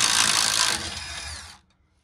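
A power tool loosens bolts on a large scrap generator in a short, loud whirring burst that fades into a whine and stops within two seconds.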